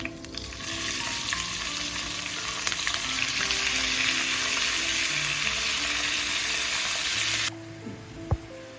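Minced mutton frying in oil gives a loud, steady sizzle under scattered stirring for most of the stretch, then cuts off abruptly, leaving quiet clinks and one sharp knock.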